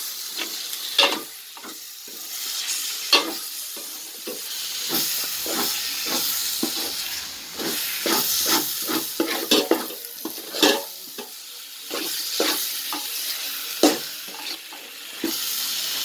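Onion, ginger and garlic paste sautéing for chicken biryani, with a steady sizzle and frequent scraping stir strokes throughout, loud and close with no talking.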